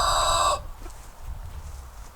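A chicken in a coop gives a short, bright, harmonic cluck or crow for half a second, then fades to faint background rustle and low farmyard murmur.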